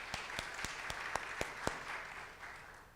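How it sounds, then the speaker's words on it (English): Sparse clapping from a small audience at a college campus event in Riverside, a few distinct claps at an irregular pace over a soft background, fairly distant and fading toward the end. "Please give a round of applause to Associate Dean Griffith."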